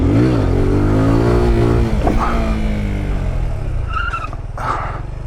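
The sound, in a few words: motorcycle clutch dump and wheelie pull-up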